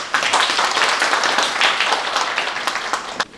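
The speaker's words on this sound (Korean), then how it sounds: "큰 박수 부탁드리겠습니다" Audience applause at a lecture on zero-energy building policy, a room of people clapping steadily for a few seconds, with a few sharper individual claps standing out near the end before it fades.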